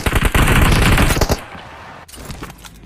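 Loud, rapid automatic gunfire from the mobile battle-royale game BGMI (PUBG Mobile) rattles in a dense burst for just over a second. A quieter stretch of game ambience with a few faint shots follows.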